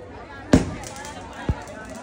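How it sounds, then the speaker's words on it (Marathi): Firecrackers at the Dongri cha Raja Ganesh visarjan procession in Mumbai: two sharp, loud bangs about a second apart over a crowd murmur, with people talking nearby. "आता मी डोंगरीच्या राजाकडे फटाके फुटताय."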